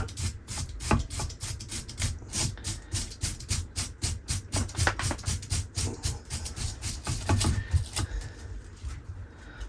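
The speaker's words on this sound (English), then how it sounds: "just come in with a wire brush and give it a good little scrape" A wire brush scrapes the trunk of an English yew bonsai in rhythmic, close strokes, roughly two per second, rasping steadily for about ten seconds with no talk.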